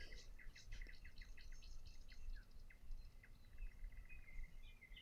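Small birds sing and chirp quietly in a calm outdoor setting, with clusters of bright tweets and trills coming in bursts over the first half and sparser calls later, over a faint low rumble.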